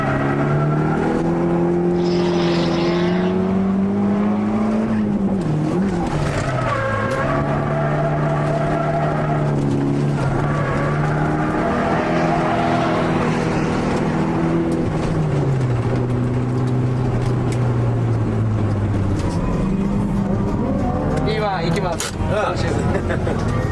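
Drift car lapping Nikko Circuit, its engine note rising and falling steadily through shifts and corners, heard throughout beneath continuous commentary from someone talking.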